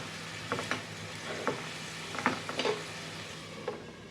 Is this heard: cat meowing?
no